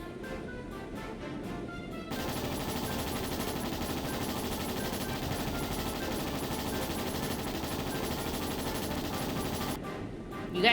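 Sustained automatic gunfire from a Trails in the Sky SC battle, a dense, continuous rattle of shots that starts abruptly after a few scattered bursts and runs unbroken for about eight seconds before cutting off.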